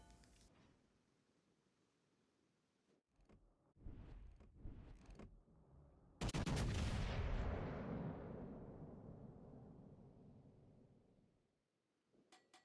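Battleship Iowa fires its naval guns in the World of Warships game: a few sharp reports, then a huge booming salvo that rolls and slowly fades over several seconds before a quiet tail.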